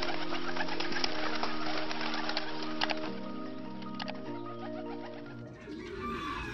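Pigeons at a loft, among them a red bar and a fancy Budapest pigeon, give steady low cooing with layered tonal calls and scattered rustling. Nobody speaks.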